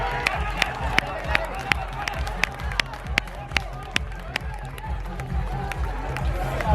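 Spectators at an outdoor tug of war championship in Kerala clap in a steady, rhythmic beat amid a crowd murmur, with an announcer talking over it throughout.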